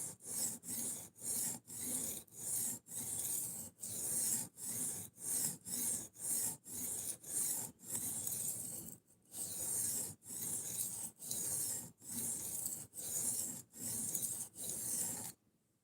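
A knife is drawn across the stone of a fixed-angle sharpening system in steady, rhythmic rasping strokes, about twenty close passes with brief pauses between them.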